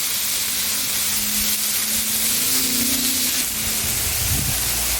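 Shrimp sizzle on a hot griddle in avocado oil, a steady, close, broadband hiss that holds evenly throughout, with a low hum underneath and a slight flare of crackle near the end.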